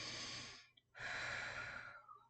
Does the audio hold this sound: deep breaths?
yes